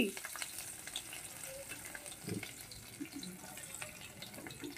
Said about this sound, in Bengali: ওই কাঁকরোল ভাজার তেলেই দিয়ে দেব কিছুটা রসুন